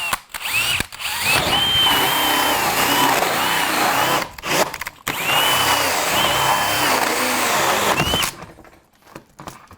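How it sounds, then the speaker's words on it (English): Power drill boring a hole through sheet-metal HVAC duct to fit a takeoff, a loud sustained whine running in two long bursts with a short break between, then stopping near the end. "now that we've drilled our hole"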